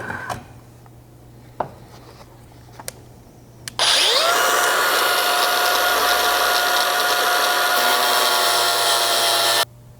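A 4.5 inch angle grinder with a cutting disc cuts through a Lexus LX 570 rocker step, spinning up sharply after a few clicks and holding a loud, steady high-pitched whine for about six seconds before stopping.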